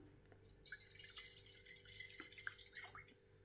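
Wine pours into a wine glass in a quiet, close trickle that lasts a few seconds, with a soft gurgle as the stream settles and then stops.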